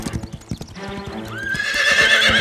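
Cartoon horse hooves clip-clop in a quick, close rhythm, then a loud, drawn-out whinny rises over them in a light animated setting.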